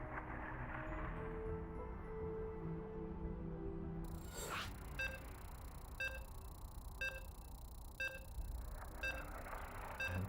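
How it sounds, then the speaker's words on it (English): Short electronic beeps sound at regular intervals as a KungFu Cup tournament match loads in a video game, over a steady background hum. "as you can hear the beeps, it looks like our game is set and we're loading into game 1."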